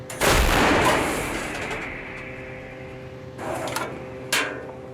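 An artillery gun fires a single shot, a loud sharp blast that rolls off into a long fading rumble, followed by fainter thumps and clanks.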